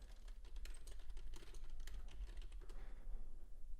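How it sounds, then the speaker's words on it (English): Someone types on a computer keyboard in quick irregular bursts of close, soft key clicks over a low steady hum. "If you do hear typing,"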